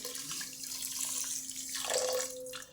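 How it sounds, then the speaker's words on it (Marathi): Water runs and splashes steadily into a pan holding sugar, one bowlful poured while making Raghavdas laddoos, a continuous pouring sound that rises briefly near the end before stopping. "ह्याच वाटीनं एक वाटी पाणी घेते आणि हे ह्यामध्ये"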